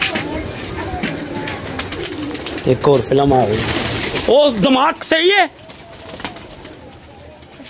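Pigeons cooing in repeated throaty bursts close to the microphone, with a cluster of calls in the middle, under a man's overlapping speech in Hindi.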